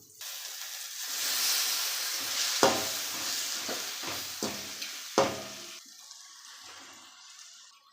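Macaroni being stirred into a masala in a pan, a soft sizzle running underneath while a spoon scrapes and knocks against the pan a few times, close by with no talking.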